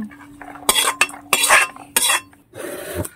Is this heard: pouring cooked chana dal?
yes